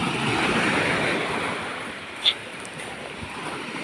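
Sea waves wash onto a shore before dawn in a steady, broad surf roar with wind across the microphone and a brief splash partway through; no one speaks.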